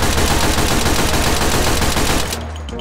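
Close-range weapon fired in the VR shooter H3VR, a loud, dense stream of rapid gunshots running continuously for over two seconds before cutting off abruptly into quieter room tone.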